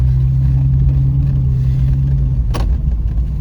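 A Jeep drives along a hard-pack gravel road, its engine a steady, loud, close rumble with tire and road noise underneath and one brief sharp knock partway through.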